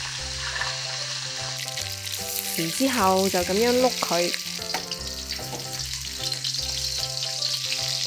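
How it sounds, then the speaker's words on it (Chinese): A whole duck pan-fried in oil and rolled around the pan, a steady close sizzle under background music and someone talking throughout. "放啲油，然之后将只鸭放落去煎"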